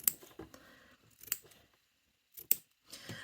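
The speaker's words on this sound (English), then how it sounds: "I'm going to get my scissors and I'm just going to snip into the seam" Scissors snip into a fabric seam allowance, several sharp separate cuts with short pauses between them, close and clear, with soft handling noises in between.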